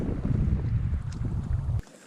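Strong wind gusts buffet a microphone beside the water during a cold early spring bass fishing outing near rocks along the shore, a loud continuous low rumble that cuts off abruptly near the end.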